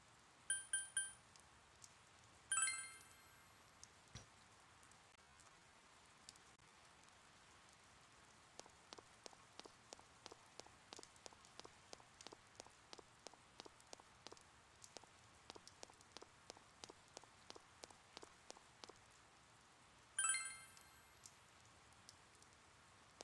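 Rainy-day ambience in the video game Persona 4, a faint steady patter of rain with a series of soft regular ticks and a few bright chiming cues near the start and end.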